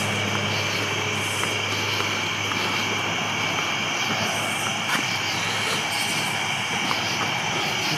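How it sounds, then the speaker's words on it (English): Airplane flying overhead, a steady droning engine roar holding at a constant level over several seconds, with a faint background hum and no talk. "There's a plane."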